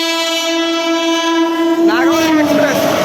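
A Nagavalli Express pulled by a WAP-9 locomotive sounds a long, loud, steady horn as it arrives. Near the end the horn's pitch bends and wavers as the train rushes closer.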